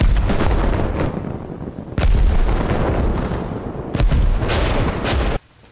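C4 charges set off with a clacker in Arma Reforger, three massive rolling explosions in succession, each a deep roaring boom that rumbles and decays before the next, close and loud, then an abrupt drop to quiet.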